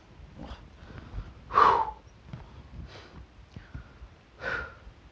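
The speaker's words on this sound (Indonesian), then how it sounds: "Ngos-ngosan men." Heavy, ragged breaths after a steep uphill walk come as a series of loud gasping exhales and snorts spaced about a second apart, close to the microphone.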